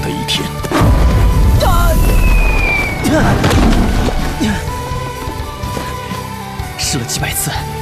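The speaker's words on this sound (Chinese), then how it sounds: "试了几百次，总算把爆炸波控制在两手之间了" Energy blasts explode in the Chinese animated fantasy series Battle Through the Heavens, with loud booming bursts and rumbling aftershocks mixed with dramatic sound effects, while characters talk over them.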